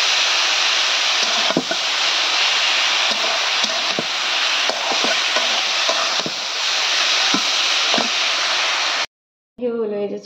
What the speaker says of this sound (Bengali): রান্না করছি শাক ভাজি